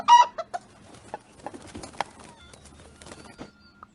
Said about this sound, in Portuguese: E agora é a hora do favorito de vocês, a galinha.